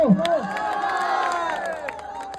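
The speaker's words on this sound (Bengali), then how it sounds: "জোরে হাততালি করবো সাদ্দাম ভাইয়ের জন্য" A crowd at a community meet-up in Kali Nagar cheers and shouts loudly, excited voices and children's yells layered over each other close by, with faint clapping mixed in.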